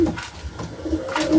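A female Saharanpuri pigeon coos softly in a short series of low, throaty murmurs, close by, with no voices.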